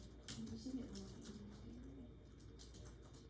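Soft, low cooing from a bird close by, a few gentle rising and falling coos over a quiet, murmuring background.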